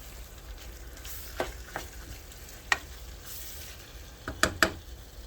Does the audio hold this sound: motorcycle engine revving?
no